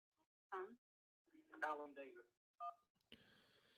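A call-in radio show's phone line connecting a caller, with short bursts of electronic telephone tones, one long steady tone at the end, and brief voice fragments between them.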